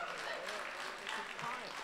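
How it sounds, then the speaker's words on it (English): Steady applause from a coffeehouse audience, a dense wash of clapping with some voices mixed in underneath. "Round of applause."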